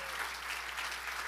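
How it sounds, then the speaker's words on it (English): Audience applause at a ministry gathering, steady dense clapping from a crowd, moderately distant and even throughout the short stretch with no voices over it. "let's give Jesus a clap offering."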